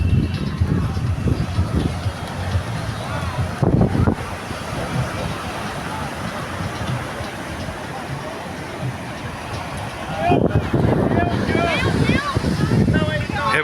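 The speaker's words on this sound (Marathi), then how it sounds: "वारा इतका आहे की स्टिक सुद्धा हलती आहे." Strong wind sweeps across a beach at Arambol at sunset, a steady roaring buffet on the microphone mixed with surf, swelling in gusts near the start and end. Voices are faintly audible in places.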